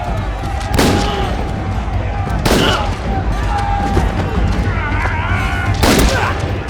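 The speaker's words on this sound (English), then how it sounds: "every shot hit a different prisoner" Gunfire during a prison riot: three or four sharp, loud shots spaced a couple of seconds apart over a dense, chaotic din of shouting and clatter.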